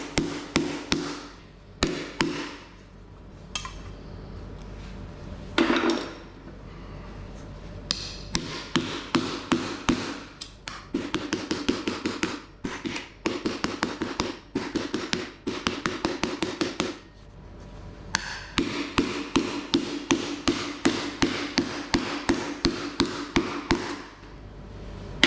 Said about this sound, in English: belt the hell out of it again with the hammer